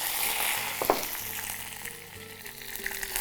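Curry leaves dropped into hot oil, a bright crackling sizzle with a sharp burst near the start, then steady frying hiss alone, close and clear.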